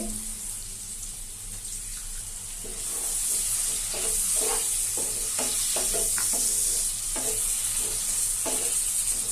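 A little water poured into chicken chili frying in a pan, the sizzle swelling louder as it hits, followed by repeated close spatula stirs and scrapes.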